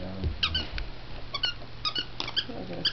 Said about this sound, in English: Oh, it does squeak.